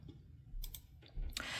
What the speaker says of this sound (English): if you hear clicking, it's because I will be following up with my digital planner